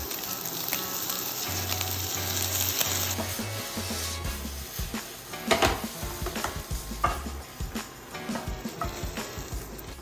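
Sausage and chicken searing in a non-stick skillet on an induction cooktop, with continuous sizzling and scraping, rubbing utensil strokes across the pan, and a low hum under the cooking.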